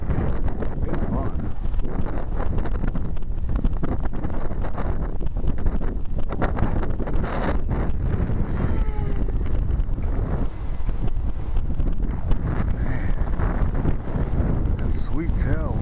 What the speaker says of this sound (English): There was 20+ mile-an-hour wind blowing.